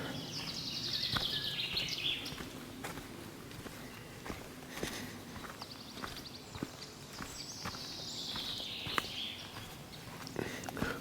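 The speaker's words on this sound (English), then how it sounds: "Hopefully you can hear those birds singing." Birdsong carries through a forest beside vineyards in Styria, bright chirping phrases rising in short bursts over scattered footsteps on a walking path, fairly faint and distant.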